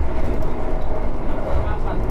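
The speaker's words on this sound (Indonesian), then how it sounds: "di dalam kereta itu lumayan berisik ya teman-teman. Karena saya rasa ada roda yang sedikit benjol" Heavy low rumble and rattling of KA Sembrani train wheels, one slightly dented, fill the carriage interior at about 117 km/h on curves, a steady rolling drone with uneven thumps.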